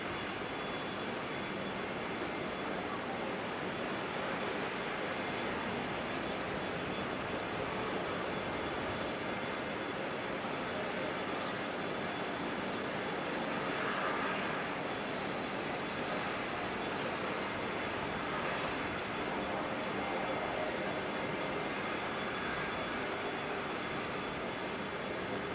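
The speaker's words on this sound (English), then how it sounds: "Another Queenstown bound Jetstar flight" A Jetstar passenger jet, flight 297, departs Auckland Airport for Queenstown, heard as a steady, distant engine roar that holds evenly throughout without any voices.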